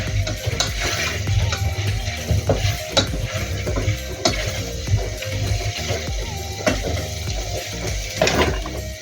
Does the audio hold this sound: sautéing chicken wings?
yes